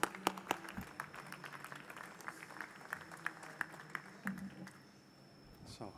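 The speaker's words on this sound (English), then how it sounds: "Round of applause, please." Quiet, scattered clapping from a small audience at an industrial additive manufacturing panel, with distinct claps early that thin out and fade near the end.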